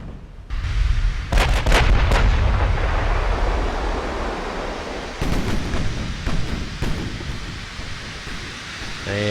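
Battleship main guns firing in the naval combat game Ultimate Admiral: Dreadnoughts, a US super battleship in action: heavy booming salvos rolling into a dense, sustained rumble, with sharper reports breaking through repeatedly.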